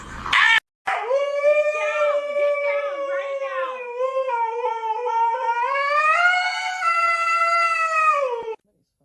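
A dog howls in one long, wavering, rising and falling call lasting several seconds, loud and close, after a brief sharp noise at the start, with no talk over it.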